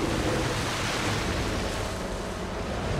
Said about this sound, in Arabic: سوى اعصار جوا المي